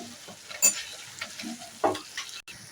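Ground spices sizzling in ghee in a pan for a dahi fish curry, stirred with a couple of sharp scrapes amid a soft, steady fry; quiet and close, with no talking.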